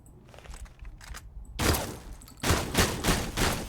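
A shotgun fires quickly in the Fallout The Frontier game, a few softer shots followed by a loud run of heavy blasts in quick succession, close and booming.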